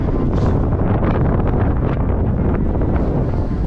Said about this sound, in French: Il y a du vent, beaucoup de vent.